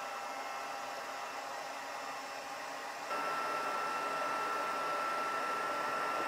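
A heat embossing tool blows hot air over embossing powder on a handmade stamped card, a steady close whooshing hiss that steps up slightly louder halfway through and holds alone with no talking.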